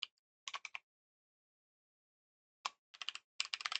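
Typing on a computer keyboard, quiet clusters of key clicks separated by a long silent pause and resuming in quicker bursts at the end.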